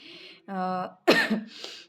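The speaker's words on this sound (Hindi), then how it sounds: "मेरे को खाँसी तो है ही" A single short cough followed by a throat clearing and a brief vocal sound, close and fairly quiet.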